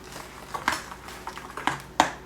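A spoon mixing eggs in a bowl while a child cooks Halloween pumpkin muffins: a few scattered clinks and scrapes against the bowl, with the strongest knocks near the end and quiet between them.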